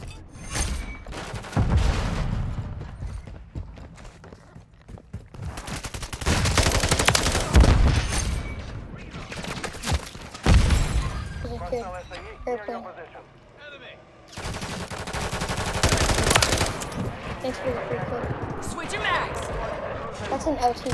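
Rapid bursts of automatic gunfire and explosions in a Call of Duty: Modern Warfare III multiplayer match, loud repeated volleys separated by short lulls, with a player's voice talking over parts of it.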